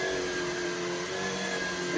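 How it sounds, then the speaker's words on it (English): A Shark cordless pet vacuum cleaner runs on max power, giving a steady, close whirring whine with a constant tonal hum and no pauses. "Yeah, this is a really impressive vacuum cleaner."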